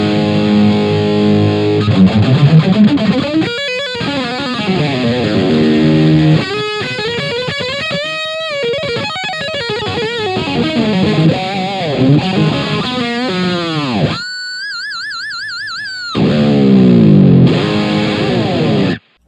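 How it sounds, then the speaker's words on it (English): An electric guitar played through a Gokko AXE MX300 multi-effects unit with distortion and overdrive stacked: crunchy, saturated chords and riffs, then a stretch of sustained, wavering high lead notes before the heavy rhythm returns, loud and alone. "turn the distortion gain down so that you can get a nice and crunchy rhythm sound, and stack your overdrive or boost into it"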